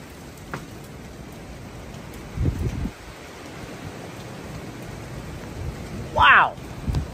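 A strong wind gust roars through a New Jersey storm during a state of emergency, a broad rushing noise that swells briefly midway and again near the end, with a short voice exclamation near the end.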